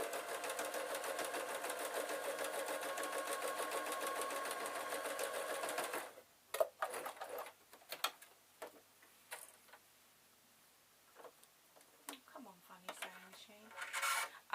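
A sewing machine stitches closed a hole in a cushion cover, running steadily with a rapid ticking rhythm for about six seconds, then stopping, followed by scattered light handling clicks and rustles.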